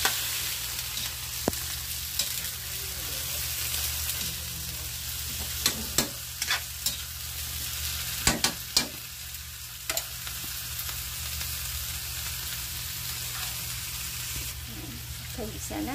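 Vegetable stems sizzling as they stir-fry in a pan, a steady hiss broken by several sharp clanks and scrapes of the utensil, close up, with no one talking.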